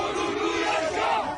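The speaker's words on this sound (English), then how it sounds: "Street demonstrators clashing violently with police after the main political rival of the nation's president, Tayyip Erdogan, was detained." Street demonstrators in Turkey clashing with police, heard as a dense, steady roar of a large crowd shouting together, loud and continuous with no clear individual voices.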